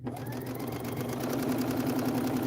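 Sewing machine stitching steadily through chain-pieced fabric, a continuous close motor hum with rapid needle rhythm running without pause for the whole stretch.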